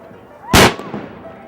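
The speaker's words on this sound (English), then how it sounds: "Free cannon shots." A single loud cannon shot fired at a Columbus Day celebration, one sharp close boom with a brief rumbling tail over faint outdoor background.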